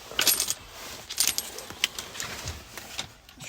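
Car keys for a 2018 Ford Ranger 3.2 TDCi Wildtrak are handled up close, giving several bright bursts of metallic jingling and clinking with short pauses between them.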